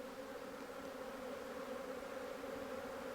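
A swarm of honey bees gives a dense, continuous buzzing drone, steady and moderately faint, with a faint hum of many wings blending together and no voices.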